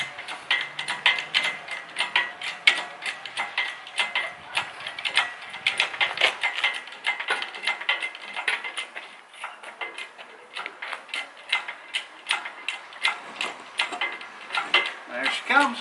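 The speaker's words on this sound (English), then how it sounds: "Now, you just crank it up." A hand-cranked jack pulling a fence post from the ground, close rapid ratcheting clicks in a steady rhythm throughout, with faint background noise.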